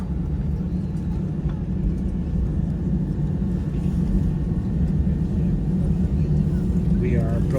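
Inside a JetBlue Airbus A320 cabin taxiing at JFK, a loud, constant low engine and air rumble fills the space without a break, with a faint voice surfacing briefly near the end.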